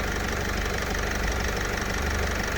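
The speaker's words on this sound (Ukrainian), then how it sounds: "Зараз машина працює." A 2012 Renault Trafic van engine idles at a steady, even rumble, close up, with no other sounds.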